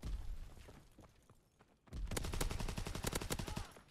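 Rapid bursts of STEN submachine gunfire in a video game battle royale, the dense automatic volley starting abruptly after a quieter stretch and running loud and continuous to the end.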